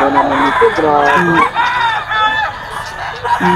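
A three-year-old White Kelso gamecock at a busy rooster market, clucking and letting out crowing calls up close, with voices and crowd noise behind it.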